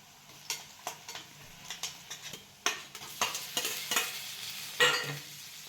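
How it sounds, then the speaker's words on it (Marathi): Potato, onion, cumin, mustard seed, garlic and turmeric stir-frying in a pan for a dry potato dish, with repeated soft scraping stirs over a steady quiet sizzle. "जिरी मोहरी लसूण मस्त असा खरपूस परतून घ्यायचा कांदा"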